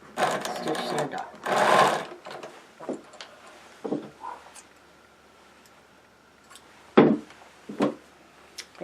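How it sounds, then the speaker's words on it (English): Sewing machine stitching the toe of a stocking, two short bursts of rapid needle chatter near the start followed by scattered clicks and handling knocks, close and moderately loud. "Stitch the other side of the toe."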